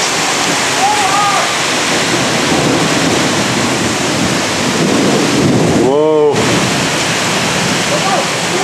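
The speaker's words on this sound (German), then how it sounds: "Man kann gar nicht so weit sehen, weil es so stark regnet." Heavy, steady rain pours down during a thunderstorm in Berlin, a dense loud wash throughout, with a brief whistling or squealing tone around the middle and voices faintly present.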